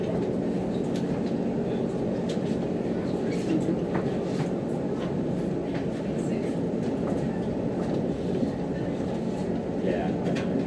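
London Overground Lioness line train between Euston and Watford Junction rumbling along at steady speed, a continuous low roar with faint rail clicks and no talk.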